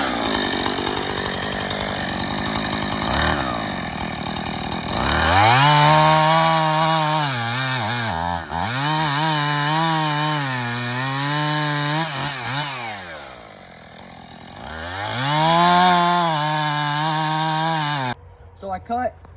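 A chainsaw cuts through logs for firewood, its engine close and loud, revving up hard through each cut and dropping back between them before cutting off near the end.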